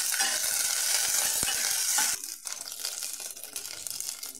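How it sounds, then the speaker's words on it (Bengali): Whole cumin seeds and crushed ginger sizzle loudly in hot mustard oil with a sharp spatula click, then the frying quiets to a softer crackle with light stirring; no talking. "খানিকটা সর্ষের তেল দিয়ে জিরে দিয়ে দিলাম, গোটা জিরে, আদা ছেঁচে দিলাম।"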